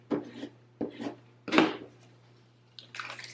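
Cricut vinyl burnished with a scraper tool in short firm strokes, four separate scraping passes with pauses between, close and crisp.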